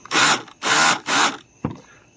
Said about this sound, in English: So I used the impact over here.